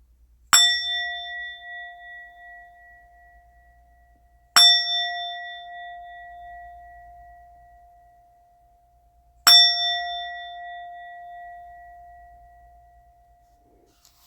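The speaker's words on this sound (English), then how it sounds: "I'm going to go ahead and ring my bell. I'm going to go ahead and do this 3 times." A single bell is struck three times at even intervals of about four and a half seconds, each clear ring ringing out and fading slowly in an otherwise silent room.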